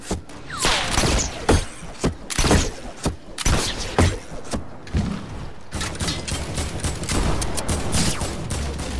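Rapid bursts of assault rifle fire in a video game, loud and repeated in a dense, uneven rhythm with short pauses between volleys, heard alone.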